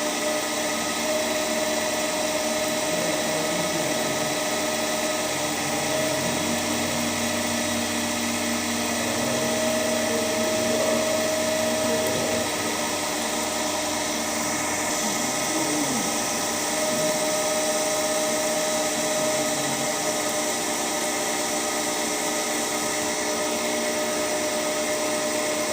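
An electric motor running steadily at its rated 1500 RPM, set with a field rheostat, alongside an alternator test setup, gives a constant whining hum with a sustained tonal line and no pauses.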